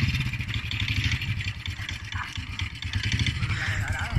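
Motorcycle engine in a video game, a continuous buzzing, clattering drone that rises and falls in pitch, with people talking over it in the room.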